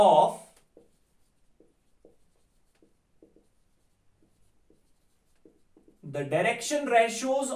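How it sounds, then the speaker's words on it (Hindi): Pen scratching out notes during a maths lesson on vector and Cartesian plane equations, faint soft strokes in short separate bursts between pauses, with a man lecturing just before and after. "हम यहां पे ये नोट में लिख रहे हैं"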